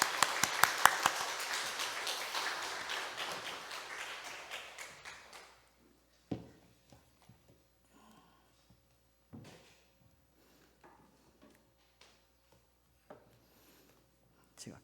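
A church congregation applauding to welcome a guest professor, dense clapping that fades out after about five seconds, leaving scattered knocks and shuffles in a quiet room.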